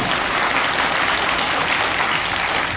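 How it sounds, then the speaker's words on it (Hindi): Loud, dense applause fills a business seminar hall, a steady wash of many hands clapping at once that never lets up through the whole stretch. "एक जोरदार तालियां होनी चाहिए आप सभी के लिए"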